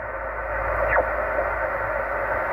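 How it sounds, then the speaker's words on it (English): Shortwave receiver tuned quickly across the 20 meter sideband band, giving a steady hiss of static with a brief sweeping whistle as the dial passes a signal. "I'm going to quickly whiz across 20 meters sideband."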